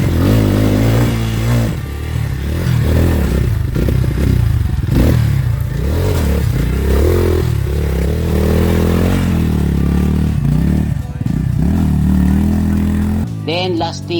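A dirt bike with double rim locks on the rear wheel works along a rough trail, its engine revving and bogging up and down loudly and continuously, with clattering and scraping throughout.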